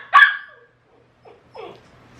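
A puppy lets out one sharp, loud bark close by, then after a pause gives two softer, shorter yips or whimpers.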